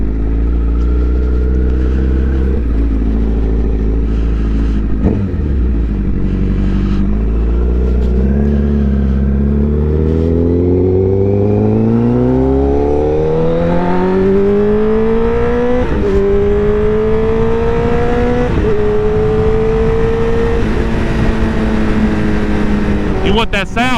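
A motorcycle engine on a South Carolina track, close and loud, revving and climbing steadily through the gears with rising whine and short shifts, continuous throughout with no voices.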